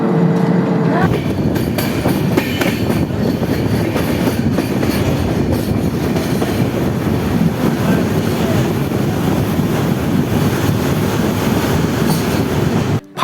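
Saraighat Express train running at night near Farakka, its carriages giving a loud, continuous rumble and rattle of wheels on track that holds steady throughout without pause.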